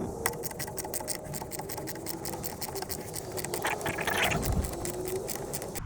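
A ratchet on an extension loosens a bolt deep in the engine bay of a 1990 Ford Mustang during a coolant change, giving a rapid, even run of close mechanical clicks.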